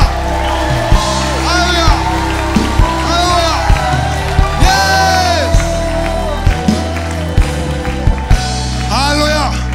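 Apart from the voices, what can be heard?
congregation applauding and cheering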